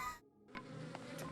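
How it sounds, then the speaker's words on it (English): Bees fired at the player buzz in The Legend of Zelda: Tears of the Kingdom, a steady close droning hum with a few brief louder pulses, and no talking over it. "It shoots bees!"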